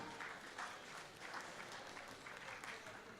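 Audience applauding young basketball players at an evening event in Bamako, a steady, fairly distant wash of clapping that carries on evenly throughout.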